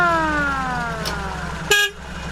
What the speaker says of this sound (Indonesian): Sirine.